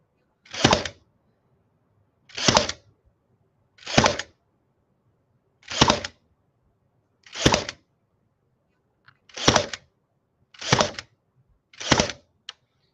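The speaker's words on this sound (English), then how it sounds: "I'm just going to tack this in with some brads" A brad nailer fires tiny brads into a craft piece, eight sharp pneumatic snaps spaced a second or two apart, close and loud in a quiet room.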